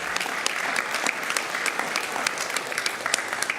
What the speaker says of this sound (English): That's something to give a round of applause.